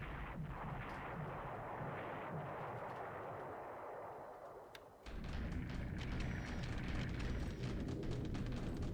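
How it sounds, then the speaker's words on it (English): Sixty-kilogram bombs go off in a World War II strategy video game, a low, steady rumbling roar that drops briefly before a louder, sharper barrage of blasts takes over. "Couple 60-kilogram bombs."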